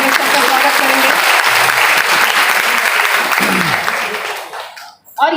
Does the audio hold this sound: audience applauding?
yes